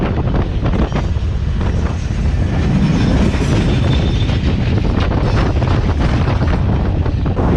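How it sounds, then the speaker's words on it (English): A long freight train rumbles past in the Sahara desert, a loud continuous roar of wagons with clattering wheels and heavy wind buffeting close by. "The train is literally endless."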